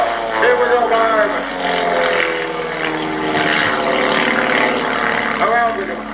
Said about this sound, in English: Notice he's diving the airplane down to the southeast, using that altitude to turn it into speed and lots of it